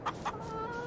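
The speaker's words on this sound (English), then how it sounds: "just avoiding the chickens as best as possible" Chickens in Farming Simulator 22 give two quick, quiet clucks, followed by a faint, steady tone.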